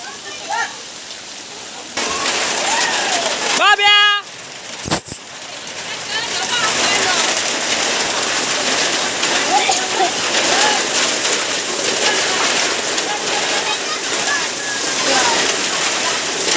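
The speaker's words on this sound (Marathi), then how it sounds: "जोरात पाऊस लागलाय" Heavy monsoon rain in a Konkan village pours down in a dense, steady roar, with a brief voice early on before the downpour settles in loud and continuous.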